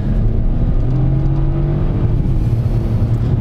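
Geely Coolray SX11 city hatchback launching at full throttle from a standstill with wheelspin, its engine droning loud and steady close by, no talk over it.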